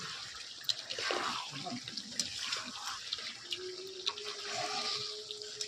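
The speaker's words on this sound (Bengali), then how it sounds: "তারপরে জলও দিয়ে দিয়েছে, একটু হালকা পরিমাণে জল দিয়েছে।" Water is poured into a pan of duck meat being cooked down with spices, a close, soft splashing and sizzling with faint background noise.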